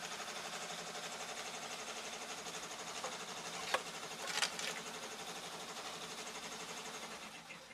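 A sewing machine stitches steadily on a baby shower gift during a late-night craft session, a faint continuous mechanical hum with a couple of brief clicks and knocks partway through, no talking.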